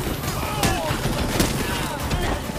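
Gunfire in the video game Gotham Knights, several sharp shots cracking out over about two and a half seconds in a busy, noisy mix, with talk faintly present.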